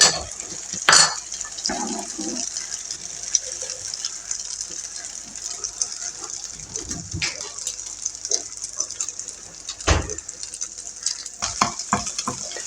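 Whisked omelette egg batter hits hot ghee in a pan and fries, sizzling steadily throughout with bursts of louder spattering and stirring clatter near the start and again around the tenth second.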